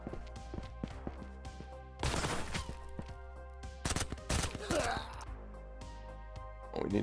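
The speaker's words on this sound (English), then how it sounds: "Motherfucker's trying to shoot me through the fucking floor" Video game gunfire comes in several loud bursts of rapid shots, heavy near 2 and 4 seconds, over a steady low hum, with some talk and breathing between volleys.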